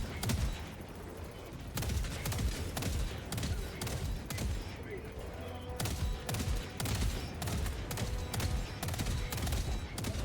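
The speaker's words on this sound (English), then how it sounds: "That actually looks really cool, seeing the two autocannons firing." Two autocannons fire in Helldivers 2, a dense, loud, steady barrage of heavy booming shots that overlap with each other and with explosions throughout, with no pauses.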